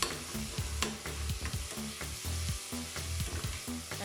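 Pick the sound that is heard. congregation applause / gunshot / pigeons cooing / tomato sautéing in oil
tomato sautéing in oil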